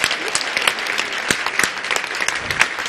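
Audience at a German talk show applauds steadily, a crisp crackle of many hands clapping at close range with uneven peaks, lasting the whole short stretch without speech.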